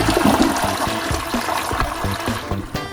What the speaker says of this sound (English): Let's give the toilet a flush and see where we're at.